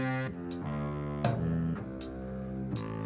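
The Rusty Sax saxophone sample library, played in Kontakt, gives soulful, slightly dirty sustained notes with a breathy lo-fi tone. A short phrase changes pitch several times with soft attacks and no voice.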